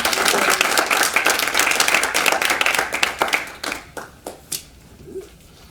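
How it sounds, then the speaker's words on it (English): A community morning gathering's audience gives the speakers a round of applause: dense clapping at first, thinning into scattered claps and a few last hand strikes as it fades out. "Give a big round of applause."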